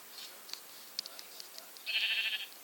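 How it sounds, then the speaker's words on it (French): Faint bleating from sheep in Minecraft, a few soft distant calls followed by one louder, sustained bleat near the end, against a quiet background. "Alors là, il y a 2 moutons."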